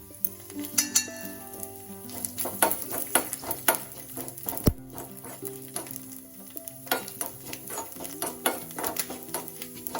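Rice and a dried red chili fry in oil in a pan, with steady sizzling broken by frequent clinks and scrapes of a stirring spoon against the metal, close and alone.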